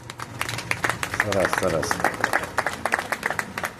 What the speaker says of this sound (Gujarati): તાળીયા તાળીયા.